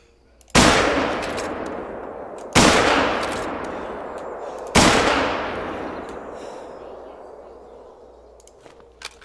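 Three loud, separate rifle shots during a multiplayer hunt in The Hunter: Call of the Wild, each a sharp crack followed by a long rolling echo that fades out before the next one.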